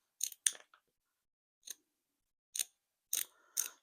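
Scissors trim off excess beading thread in several separate, crisp snips, a close pair at first, then single cuts spaced a second or so apart, in an otherwise quiet room.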